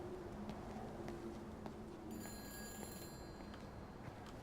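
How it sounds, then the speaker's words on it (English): An old-style telephone bell rings inside the video game Everybody's Gone to the Rapture, a high repeating trill that starts midway and carries for about a second over a steady ambient background hum. "I hear a phone."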